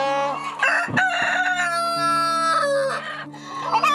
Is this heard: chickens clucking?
yes